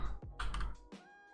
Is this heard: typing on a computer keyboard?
yes